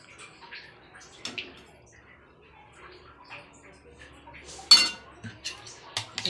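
Utensils clink against a bowl while curd is whisked with milk for homemade sweet yogurt, with faint scattered taps and one sharper clatter, all fairly quiet and close.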